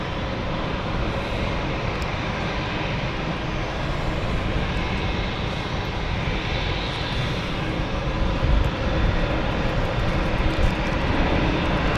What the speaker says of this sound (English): So the aircraft we're watching at the moment is the Geneva flight